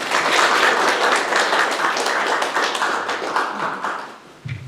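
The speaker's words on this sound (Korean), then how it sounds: "다시 한번 박수 부탁드립니다." Enthusiastic applause from a crowd at a city mayor's town-hall meeting with citizens, dense and continuous, fading toward the end with a final thump.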